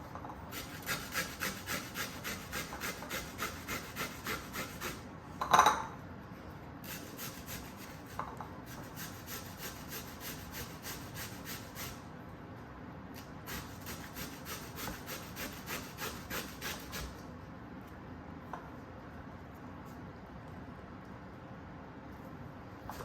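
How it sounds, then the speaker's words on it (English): Persian cucumbers rubbed against a grater, rhythmic rasping strokes in close bursts with brief pauses between runs and one sharp knock partway through, no talk. "I'm just gonna do grate some cucumbers."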